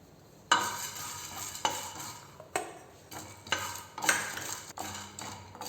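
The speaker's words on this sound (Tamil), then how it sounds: "ஏலக்காய் நல்லா வறுத்துட்டு இப்போ நம்ம எடுத்துடலாம்" Cardamom pods dry-roasting in a pan for garam masala, with repeated sharp scraping and stirring strokes about once a second over a soft rattle, close and fairly loud.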